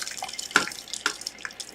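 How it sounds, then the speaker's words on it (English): Blackberry juice is poured, landing in a few distinct splashes and drips over a soft trickle, close by and fairly quiet. "let's go ahead and pour now some"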